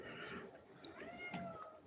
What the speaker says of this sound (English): He is meowing like crazy.